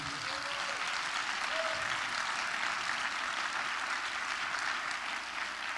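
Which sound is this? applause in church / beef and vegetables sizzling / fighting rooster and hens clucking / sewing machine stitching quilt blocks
applause in church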